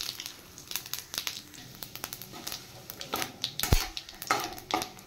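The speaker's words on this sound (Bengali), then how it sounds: "এবার আমি দিয়ে দিচ্ছি তেলে তেজপাতা আর গোটা শুকনো লঙ্কা, আর তার সাথে দিচ্ছি গোটা জিরে" Bay leaves, whole dried red chillies and whole cumin sizzle in hot oil left from frying katla fish, a steady close crackle broken by stirring scrapes and pan clatter.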